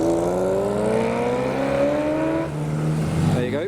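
A Ferrari 348 sports car engine revs hard as it accelerates away from a car show, a loud rising wail that climbs through a gear change and begins to recede.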